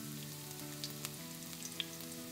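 Ginger, garlic and shallots sizzle steadily in a hot pan, a continuous close frying hiss with a few faint clicks of stirring and no voices.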